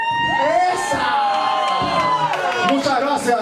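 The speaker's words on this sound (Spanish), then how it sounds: "Les voy a pedir que me metan un grito" Crowd of children and adults at a charity magic show shouting and cheering on cue, a loud continuous roar of whoops and yells close by, with voices rising and falling throughout.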